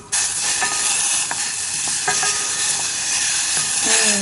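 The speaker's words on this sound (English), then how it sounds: "That sizzling is nice, isn't it?" Food sizzles and fries in a pan over rising heat, an oil-free dish, with a steady, loud hiss running almost unbroken from start to end and no talking.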